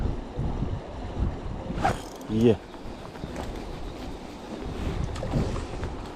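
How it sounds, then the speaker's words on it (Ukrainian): Gusty wind rushes outdoors beside a small river during a zander fishing outing, a steady broadband roar with a few stronger buffets, while someone talks briefly over it. "Ще й вітер почався такий конкретний"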